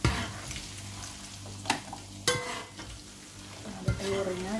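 Peanuts frying and being stirred in a pan for Indonesian kacang disco and kacang bawang, with a steady close sizzle, a few sharp scrapes and clinks of the utensil against the pan, and no talk.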